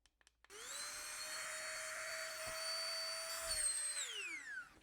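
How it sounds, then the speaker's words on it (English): A small electric pump sucks air out of a large compression packing cube full of clothing, starting after a few clicks with a rising whine that holds steady, strains slightly near the end, then winds down. "We'll use the pump to suck some of this air out."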